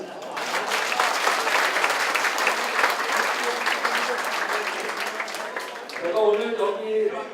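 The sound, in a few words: audience applause at party workshop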